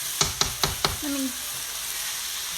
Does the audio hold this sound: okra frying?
yes